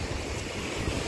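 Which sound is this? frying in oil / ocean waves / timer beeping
ocean waves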